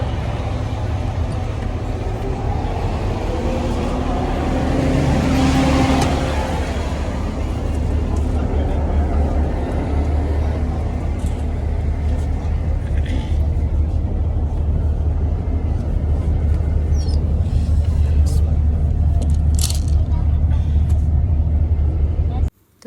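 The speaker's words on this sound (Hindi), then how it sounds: "अब हम लोग गाड़ी में बैठ रहे हैं।" A car being driven through Madinah, heard from inside the cabin as a steady low engine and road rumble that stays loud and even throughout, with faint muffled voices around the middle.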